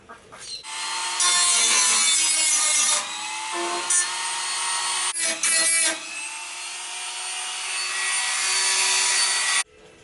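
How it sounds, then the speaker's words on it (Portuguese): A sander grinds through weld points on a 1982 Kombi van, a loud, harsh rasping whine in long bursts with short pauses. The pitch rises and falls slightly as the tool bites into the metal, close and with no speech. "depois de brigar um pouco com a lixadeira ali, eu consegui soltar a solda"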